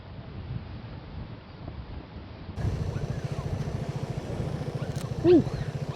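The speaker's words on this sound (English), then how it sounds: "It is windy" Wind buffets the microphone on a ride out aboard a Vespa scooter, a rough low rumble that gets louder partway through, mixed with steady engine pulsing.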